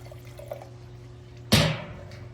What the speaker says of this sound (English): let me pour again